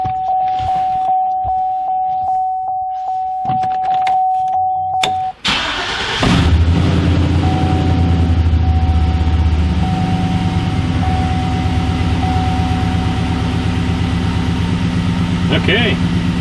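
A Chevrolet Silverado pickup turns over and settles into a steady, loud idle close by, after a stretch of quieter cabin sounds with a steady electronic chime; the rumble continues to the end.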